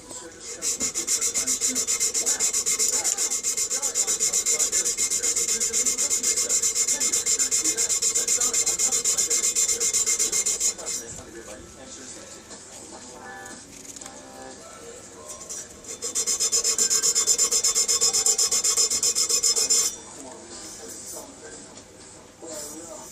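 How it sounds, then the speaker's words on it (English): A Scotch-Brite pad rubs over a welded metal Triumph Bonneville hardtail motorcycle frame in steady, close, scratchy strokes, two long bursts of about ten and four seconds separated by a quieter pause. "I'll keep going over it with the Scotch-Brite and whatnot, clean the rest of this up"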